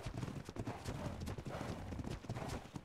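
A galloping horse in ARK: Ragnarok drums out rapid, even hoof thuds, a continuous, fairly close rhythm with no voices over it.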